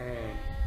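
A sheep on a small farm bleats in one brief, wavering call, close and moderately loud.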